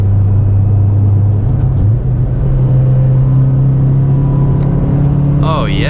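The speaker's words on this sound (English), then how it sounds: "Dude, that intake, that is very, very loud and sounds so good." A 9th generation Honda Civic Si with an Acuity cold air intake drones steadily at close range, its engine note rising slightly as it is revved, with voices heard over the engine.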